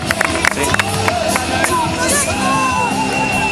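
Spectators at a Summer BarWar calisthenics competition yell, whoop and clap in a loud burst of cheering, shouts rising over a packed crowd hubbub with sharp claps scattered throughout.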